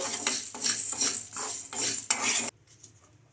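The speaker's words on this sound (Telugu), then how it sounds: "ఈ సగ్గుబియ్యం కూడా ఒక రెండు నిమిషాల పాటు వేయించుకోవాలి కలుపుతూనే వేయించుకోవాలండి" Sago pearls being dry-roasted and stirred in a kadai, a steady scraping and rattling of the spoon against the pan in rhythmic strokes, close and clear, which stops abruptly near the end, leaving near silence.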